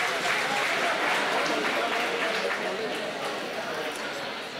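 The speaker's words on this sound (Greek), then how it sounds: "Χειροκρότημα." Steady crowd applause at a Pontic Greek music album presentation evening, dense and sustained throughout, easing slightly toward the end with a murmur of voices mixed in.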